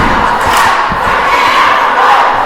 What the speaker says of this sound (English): It's difficult to hear anything because the cheer team are what they would call lit.